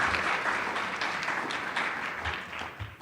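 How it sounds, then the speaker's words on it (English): Audience applause at a school district awards ceremony, a dense, steady wash of many hands clapping that holds evenly and tapers slightly toward the end. "Please join me in another round of applause for our newest Lett Scholar."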